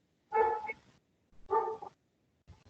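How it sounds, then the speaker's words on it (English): A dog barks a few times at a distance, two distinct barks about a second apart and a fainter third starting at the end, with quiet gaps between. "Thank you for the dog that's barking, Sebastian"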